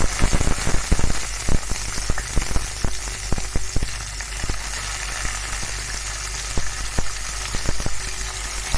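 Chopped small onions dropped into hot oil with dried red chillies, sizzling and crackling loudly up close with scattered pops and spatters, settling into a steady frying hiss.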